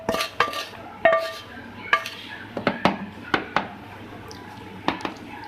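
A spoon scraping and clinking against a pan while mashed potato filling for aloo paratha is stirred with spices, onion, green chilli and coriander, giving irregular close knocks and scrapes over a quiet background.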